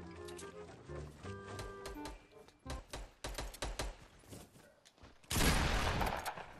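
Gunfire in the Fortnite Battle Royale video game, with rapid bursts of sharp shots, scattered single cracks and a loud explosive blast near the end.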